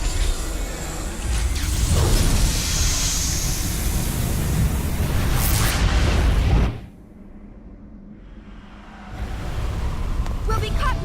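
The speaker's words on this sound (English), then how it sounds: "We'll be caught in the explosion!" A loud explosion in the video game Xenosaga Episode I, a sustained broadband roar and rumble that lasts several seconds, drops away abruptly into a muffled lull, then swells back up.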